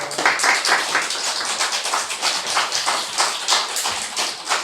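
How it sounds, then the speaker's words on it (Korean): A church congregation applauds to welcome a visiting missionary during a Sunday worship service, with dense, steady clapping that fills the room and rises and falls in loose rhythm, with no voices over it. "박수로 환영하겠습니다."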